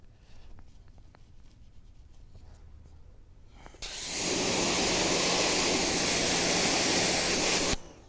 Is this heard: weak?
no